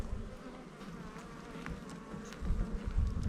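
Honeybees gather in a ring on candy feed inside a small eight-frame colony, a soft continuous buzzing close by that swells slightly toward the end, with no talking.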